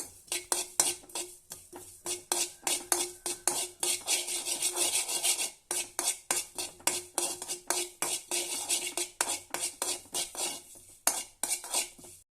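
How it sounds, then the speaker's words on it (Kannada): Sesame seeds being lightly heated in a pan make continuous dry rasping and scraping, with dense rhythmic clinks and stirs of utensil against metal throughout. "ನೆಕ್ಸ್ಟ್ ನಾನಿಲ್ಲಿ ಎಳ್ಳನ್ನ ಸ್ವಲ್ಪ ಬಿಸಿ ಮಾಡ್ಕೊಳ್ತಾ ಇದ್ದೀನಿ."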